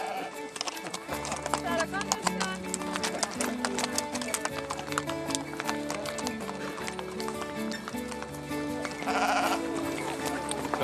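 Horses carrying riders who are herding sheep in Iceland, their hooves clip-clopping in a steady, close rhythm throughout, while sheep bleat now and then and a person speaks over the scene.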